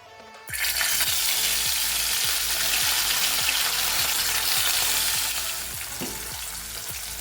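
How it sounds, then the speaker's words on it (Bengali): Amudi fish drop into hot white oil in a kadai and set off a sudden, loud, steady sizzle that crackles close up, easing slightly near the end, with faint regular ticks underneath. "মাছগুলো আমি দিয়েও দিয়েছি আর খুব বেশি কড়া করে আমি ভাজবো না হালকা করে আমি ভেজে তুলে নেবো"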